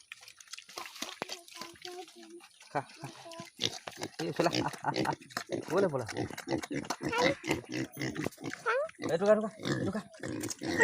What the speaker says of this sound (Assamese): ইফালে গাহৰি দি আছে।